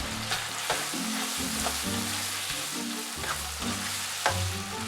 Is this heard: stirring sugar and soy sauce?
yes